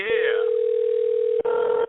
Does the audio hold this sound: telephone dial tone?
yes